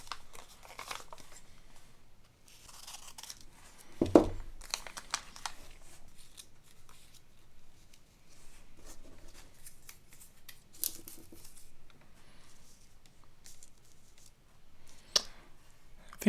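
Scissors cutting out paper game pieces from an escape room game, with scattered close snips, crinkles and paper rustles, quiet and irregular, one sharper cut standing out.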